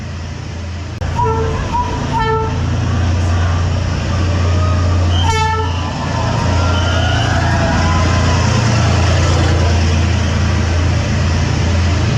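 A train rumbles past very close through a narrow street in Vietnam with a deep, steady roar, its horn sounding in several short blasts over the heavy rolling noise.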